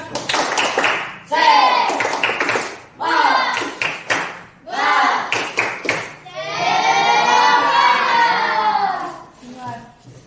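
A classroom of students performs a rhythmic chant-and-clap cheer, loud group voices shouting in short bursts with hand claps between them, ending in a longer sustained shout.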